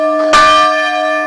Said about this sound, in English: That bell sounds like a joyful bell.